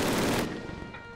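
Rapid machine gun fire in the Call of Duty video game, a loud dense burst that cuts off abruptly and leaves a fading ringing tail.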